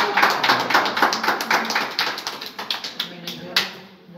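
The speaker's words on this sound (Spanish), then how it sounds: "Un aplauso." Guests at a birthday party clap together, a dense run of hand claps that carries on for about four seconds and thins out toward the end.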